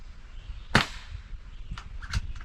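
An air pistol fires an H&N Hornet pellet with one sharp, crisp crack, followed by fainter clicks and ticks on a quiet background.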